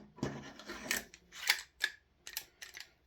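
Metal bolt sliding and clicking into a Tokyo Marui MWS MK16 airsoft upper receiver, with a run of soft scraping, rasping and small sharp clicks, close and quiet.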